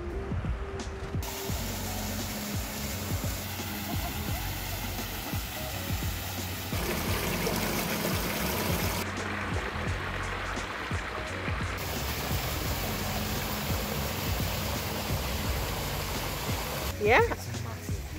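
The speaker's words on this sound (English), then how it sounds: "We finally made it to Joe's River." Joe's River in Barbados flows with a steady rushing wash of water, heard under people talking throughout, with occasional footsteps and handling noises nearby.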